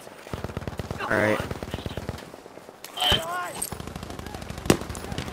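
Battlefield 5 automatic gunfire rattles in fast repeated bursts, with a sharp crack near the end, while voices talk over it.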